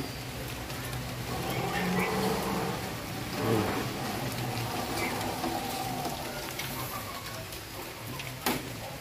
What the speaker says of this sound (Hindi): बहुत बारिश हो रहा है बाहर